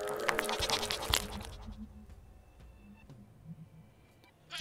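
A goat in the video game Sally Face bleats several times over the first second and a half, loud and close, then softer calls trail off with a brief sound at the end.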